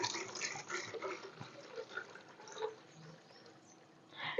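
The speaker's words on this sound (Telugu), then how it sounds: "ఫస్ట్ మనం వన్ లీటర్ ఆఫ్ వాటర్ పోసుకోవాలి" One litre of water is poured into a plastic container, a soft, steady splashing trickle heard faintly and close, with a brief louder splash near the end.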